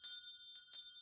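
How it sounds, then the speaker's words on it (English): Doorbell chime in the Radiant Tale Fanfare video game, a bright, clean electronic bell ringing in a few quick strikes with ringing tones, heard alone and fairly soft. "the doorbell rang, signaling the arrival of 2 special guests."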